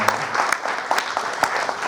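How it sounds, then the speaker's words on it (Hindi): Theater audience applauding after a Hindi stage play, a full, steady crowd clapping with scattered sharper claps standing out, filling the whole short stretch without speech. "तो एक बार तालियां बजाकर बताइए।"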